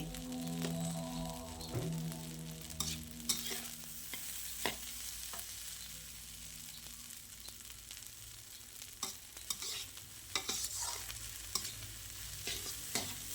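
Egg fried rice is stir-fried with seasoning powder in a pan, giving a continuous soft sizzle with repeated sharp scrapes and clacks of the spatula in an uneven rhythm, close and fairly quiet, with no talking.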